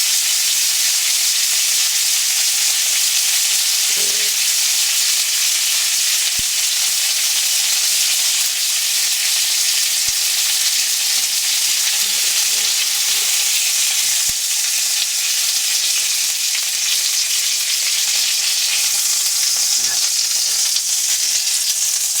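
Bacon frying in a pan, a loud steady hissing sizzle that runs unbroken for over twenty seconds, with scattered small pops and crackles, close up and without any voices.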